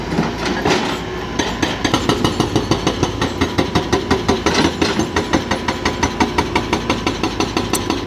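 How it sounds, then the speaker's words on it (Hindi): A 2000-model TATA 210EX excavator with an Isuzu engine pounds material with its hydraulic breaker, a loud, steady rapid hammering with regular rhythmic blows over constant engine drone, no talk. "परफॉर्मेंस काफ़ी अच्छी दे रहा है ब्रेकर पे, निकाल रहा है मटेरियल"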